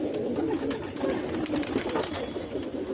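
Pet pigeons in a coop give soft, steady throaty cooing, close and continuous, with a faint background hiss and no talk.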